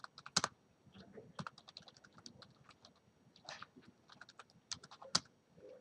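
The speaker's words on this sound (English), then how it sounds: "I can start typing" Quiet, irregular clicks of typing on a computer keyboard while writing Android code, with occasional sharper key strikes scattered through steady tapping.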